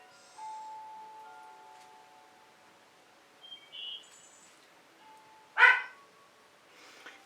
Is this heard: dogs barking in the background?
yes